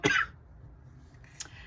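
A single short cough right at the start, close and fairly loud, with a faint second throat sound near the end over low room hiss.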